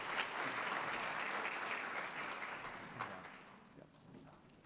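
Audience applause fills a conference hall for the event's planning committee and board chair, a broad wash of clapping that starts strong and gradually thins and fades over a few seconds.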